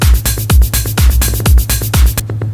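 A melodic techno drum pattern of punchy kicks on a steady four-on-the-floor pulse, with hi-hats and a low bass tone, ending in a triplet fill that briefly drops out the top end.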